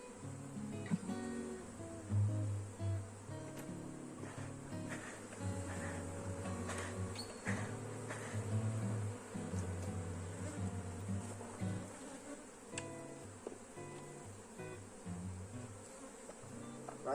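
Honeybees swarm and buzz around an opened beehive during a colony split, a dense, steady drone of many wings close by that holds for the whole stretch, with no talking.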